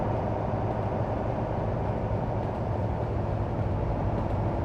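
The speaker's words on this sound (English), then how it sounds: "there's a train going by" A train rolls past near a rail yard, a steady, dense rumble and rattle of wagons that stays even and fairly close throughout, with no voices.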